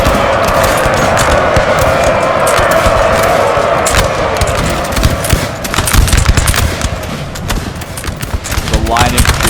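Massed infantry musket volleys in Napoleon Total War, set at the 1814 Battle of Orthez, crackle in dense, continuous rolling gunfire with scattered heavier thuds, loud and sustained throughout.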